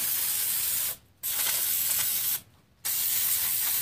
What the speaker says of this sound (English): spray this stuff down with some brake parts cleaner